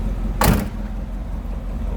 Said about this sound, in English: Nicely that door closes.